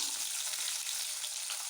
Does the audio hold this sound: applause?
no